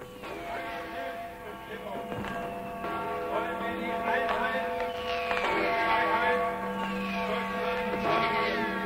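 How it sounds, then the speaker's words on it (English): A huge crowd in Berlin celebrates German reunification at midnight, a dense, steady roar of cheering voices with whistles, horns and bells ringing through it, heard from within the throng. "What you're hearing is the huge party that's now underway in Berlin"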